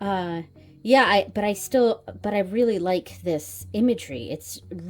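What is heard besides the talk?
No everyday noises stand out.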